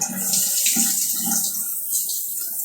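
Cold water from a shower runs steadily, a broad continuous hiss with no talk over it.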